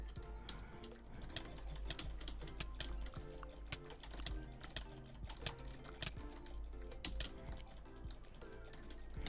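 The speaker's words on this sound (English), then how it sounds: "I'm literally clicking so slow." Rapid, quiet mouse clicks tap out in fast irregular bursts during a Minecraft UHC duel, close and dry with no talking.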